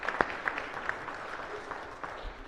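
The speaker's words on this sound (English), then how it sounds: "So give them a round of applause." Light, scattered clapping in a Senate chamber for elementary school students in orange shirts, a few sharp claps standing out over a faint, thin background that fades quickly.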